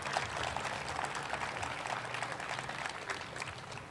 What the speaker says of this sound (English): A big round of applause, please, for